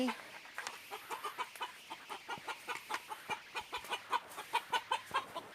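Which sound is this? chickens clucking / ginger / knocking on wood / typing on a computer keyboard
chickens clucking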